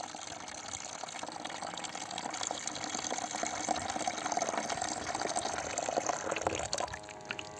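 Water pours steadily into a farm spray mixture of urea ammonium nitrate and sticker for a wheat field, a continuous close splashing gush that holds at even strength throughout.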